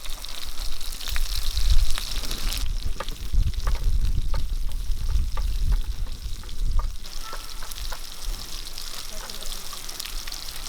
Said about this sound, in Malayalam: നമുക്ക് ചില കടുക് ഇട്ട് കൊടുക്കാം ഇനി ഇതിലേക്ക് ഒരു മൂന്ന് പച്ചമുളക് ഇട്ട് കൊടുക്കാം